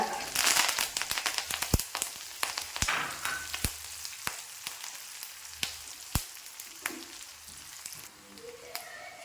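Shallots, dried red chilies and curry leaves frying in oil alongside mustard seeds for an egg curry, with a steady sizzle and sharp scattered pops and crackles, fairly quiet and close, no voices.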